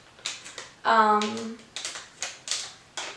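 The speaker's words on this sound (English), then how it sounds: "So they have it in this like little bag that you have to like tear open." A small plastic product bag from a beauty subscription box being torn and crinkled open, with a string of short, sharp crackling rips close by and a brief voiced sound partway through.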